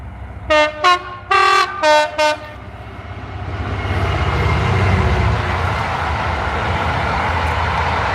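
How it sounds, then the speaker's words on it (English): A southbound freight train on the East Coast Main Line sounds several loud horn blasts, then the deep rumble and roar of the wagons builds and holds steady as it passes close by. "here's the freight coming through. It's heading south."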